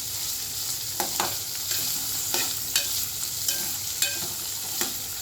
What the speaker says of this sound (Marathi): मग मीडियम गॅस करायचा आहे मी परतून घ्यायचं सारखं परत परतायचं दहा मिनटं